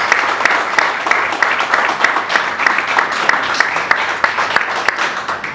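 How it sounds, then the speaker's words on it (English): An audience applauds for a government minister at a tech company's grand opening event, steady dense clapping from a crowd that carries on for the whole stretch, loud and close. "please give a big round of applause for our honorable minister sir."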